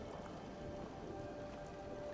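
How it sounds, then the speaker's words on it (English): Steady rain ambience from Fallout 4 at a swamp outpost, a continuous dense patter of raindrops falling on surfaces, holding an even, moderate level with no voices over it. "It rains quite often down here as the default weather"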